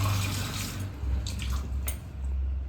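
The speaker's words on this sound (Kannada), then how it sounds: "ನೀರು ಕಮ್ಮಿ ಆಗಿದೆ ಅನ್ಸುತ್ತೆ ಫ್ರೆಂಡ್ಸ್, ಸ್ವಲ್ಪ ನೀರು ಹಾಕೋಣ" Water trickles and splashes steadily into a plate while homemade soap is being made, a continuous wet pour over a low background hum, with no talking.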